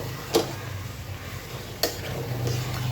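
A large fresh river-fish head fries over high heat with a steady, even sizzle, broken by two sharp clicks of a utensil against the pan.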